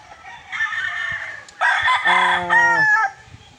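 A gamefowl rooster crows loudly nearby, a drawn-out cock-a-doodle-doo rising and falling, over faint background noise of pouring rain.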